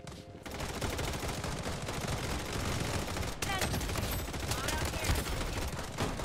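Rapid, dense gunfire fired into the air in the Bloodstrike video game, a continuous crackling fusillade heard faintly and evenly throughout with no pauses.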